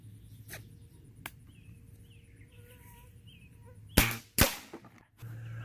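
A Remington Express spring-powered air rifle fires twice in quick succession, two sharp close cracks aimed at a soda bottle cap, set against a faint outdoor hum of insects.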